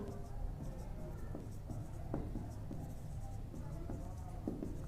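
Pen or marker writing on a board during an accounting lesson, faint scratchy strokes in short bursts over a steady background hum, no speech.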